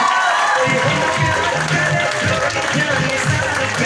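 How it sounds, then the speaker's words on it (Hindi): A standing audience at an achievement event claps and cheers loudly and close up. The crowd noise is dense and continuous, with voices and shouts mixed into the clapping throughout. "एक बार प्यार से खड़े होकर के जोरदार ताली होना चाहिए"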